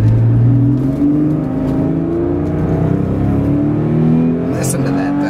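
A 2006 Porsche 911 Carrera S Cabriolet engine revs and pulls smoothly, its tone sweeping upward in pitch, loud and close, with someone talking over it.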